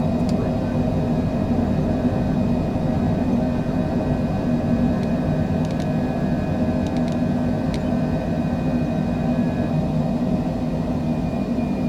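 A Citation Longitude business jet in a flight simulator climbs after takeoff with gear up, a loud, steady engine roar and rumble holding constant throughout, with faint cockpit tones and clicks above it.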